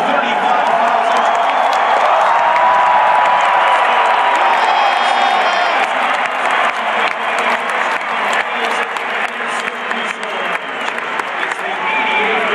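A record on-campus crowd of 35,000 fills a college basketball arena for Syracuse versus Georgetown, roaring with loud, sustained cheering, whoops and dense clapping, while an announcer's voice carries over the noise.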